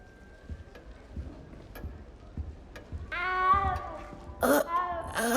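A cat in Hogwarts Legacy lets out two clear, drawn-out meows near the end, the second louder and higher, after a few seconds of quiet ticking in the background.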